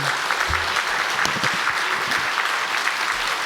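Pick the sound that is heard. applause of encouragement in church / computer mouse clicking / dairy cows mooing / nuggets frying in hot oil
applause of encouragement in church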